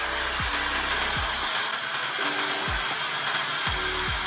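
A Lefen blow dryer runs steadily as a loud, continuous broadband whoosh, broken by a few short clicks and pitch dips as settings change.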